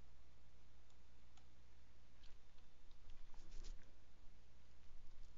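Quiet, crisp mouse clicks at a computer running office software, a few isolated ticks followed by a denser patter of small clicks over a low electrical hum.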